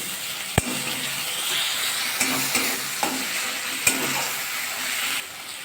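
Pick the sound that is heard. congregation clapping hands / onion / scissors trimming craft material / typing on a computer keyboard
onion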